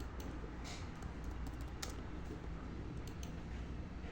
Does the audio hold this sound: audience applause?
no